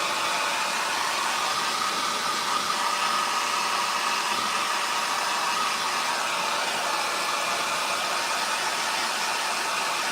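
A hair dryer blows over a refinished thrifted book holder, giving a steady, loud, even whoosh that runs the whole time without a break and with no talking.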